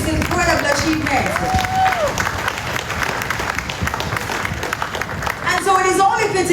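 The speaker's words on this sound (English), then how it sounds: "Let's put our hands together again and just clap this incredible achievement" Audience clapping at the unveiling of 93 new JUTC buses: a dense, steady wash of applause from a crowd, with murmuring voices and a brief whistle-like tone mixed in throughout.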